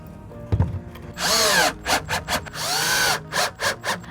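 A cordless power drill drives screws to fasten mounting brackets onto a wooden pallet, with two sustained whirring runs, each followed by several short stop-start bursts, close and fairly loud after a brief knock.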